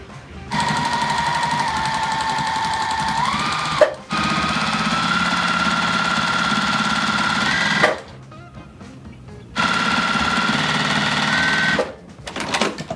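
A sewing machine runs a quarter-inch seam on scrap fabric. It whirs steadily in three long, close bursts separated by brief stops, with no talking.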